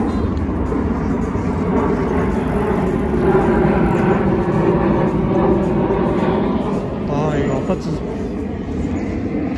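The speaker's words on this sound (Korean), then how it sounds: "비행기 노선이 있는 바로 아래라서 소리가 꽤 있을 것 같은데" A passenger plane passes low overhead along a flight route above a park in a residential apartment area, a loud, steady jet roar that fills the whole span; a voice speaks briefly over it.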